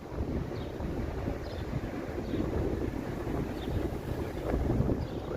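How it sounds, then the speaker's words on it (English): Steady wind gusting on a breezy Sunday afternoon in Toronto, a broad continuous rush buffeting the microphone throughout, swelling slightly near the end, with no speech. "Look how breezy it is."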